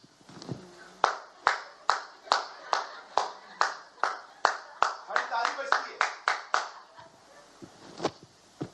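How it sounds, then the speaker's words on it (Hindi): Rhythmic unison clapping by a church worship congregation, about twenty sharp steady claps at an even tempo, fairly close, briefly doubling in the middle before trailing off. "ताली बजाने के लिए आए थे।"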